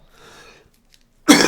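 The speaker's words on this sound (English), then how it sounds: "I start talking and I cough." A sick person gives a single sharp, loud cough near the microphone after a stretch of faint, low rustling and near silence.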